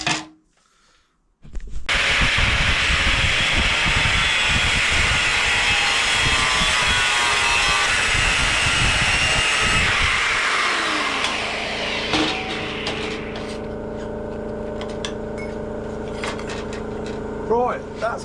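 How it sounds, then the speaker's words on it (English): An angle grinder cuts through an aluminium part for a Suzuki RM motorcycle, a loud, steady high-pitched whine with rasping cutting noise for about ten seconds. It then winds down into quieter workshop sounds and scattered knocks. "I'll cut near them lines now, and then I'm going to actually file it all back because aluminium doesn't cut very nice with a grinder."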